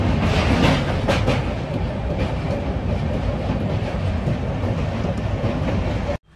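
Jan Shatabdi Express train running between Vijayawada and Chennai Central, a loud, steady rumble of wheels on track with faint clickety-clack, heard close from inside the train and ending abruptly.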